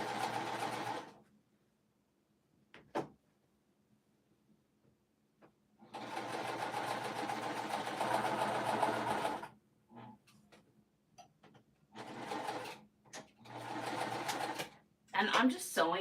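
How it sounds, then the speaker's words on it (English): A sewing machine stitching fabric with Gutermann thread runs in several bursts of steady, rapid mechanical whirring, separated by quiet pauses and brief clicks, with a person talking in between. "I'm just sewing this with Gutermann thread right now."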